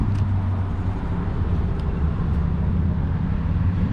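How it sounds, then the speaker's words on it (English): A new 2021 Carrier HVAC unit outside a bank runs its compressor with a steady, loud low hum and drone that holds evenly the whole time, with no talk over it. "That's the compressor."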